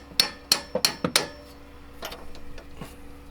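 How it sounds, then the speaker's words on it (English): A hammer strikes metal five times in quick succession while driving a long bolt out of a car coilover, sharp ringing impacts up close, followed by fainter scraping and lighter taps. "We gotta hammer this shit out?"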